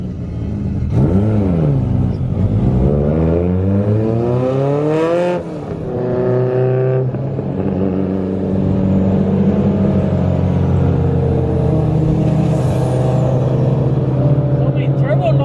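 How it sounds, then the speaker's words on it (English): Turbocharged cars rev hard at a car meet, their engine notes sweeping up and down in loud repeated bursts while people talk over the steady roar. "So many turbo noises, I like it!"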